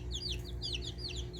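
Young Delaware meat chicks peep and chirp in quick repeated high notes over a low steady hum, close by and fairly quiet.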